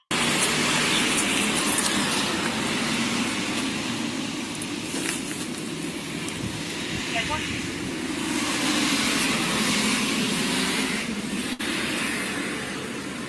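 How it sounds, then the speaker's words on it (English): Loud street traffic rumbles and roars steadily outdoors, vehicles passing with a continuous broadband wash of engine and tyre noise throughout. "The traffic is loud."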